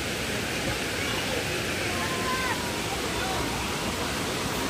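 Water at Cold Spring on Camiguin in the Philippines, a spring-fed pool crowded with visitors, makes a steady broadband rush of flowing and splashing, with faint voices mixed into the wash.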